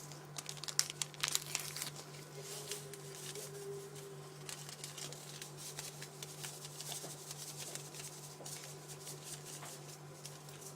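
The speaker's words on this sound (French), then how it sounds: "Je mets mon sachet de sucre vanillé." A paper sachet of vanilla sugar is torn open and crinkled, with faint rustling and pouring sounds, quiet and close, against a steady low hum.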